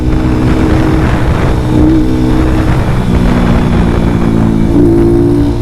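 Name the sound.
KPR 200 motorcycle riding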